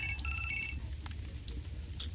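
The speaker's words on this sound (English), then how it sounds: "I got a phone call real quick" Phone ringtone in the Resident Evil 4 VR game, a repeated electronic trill that plays in short bursts over a low steady background hum; no talking.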